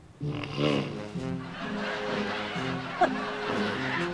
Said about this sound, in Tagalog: Grabe, hilik nito.